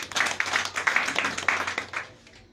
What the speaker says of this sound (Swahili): Pigia Mwenyezi Mungu makofi mazuri